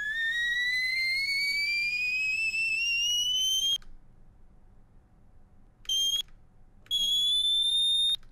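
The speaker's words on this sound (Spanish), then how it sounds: "Esta es la nota más alta." An extremely high sung whistle-register note, billed as the highest ever reached, rises steadily as one piercing thin tone, then breaks off and returns in two short bursts, loud and alone.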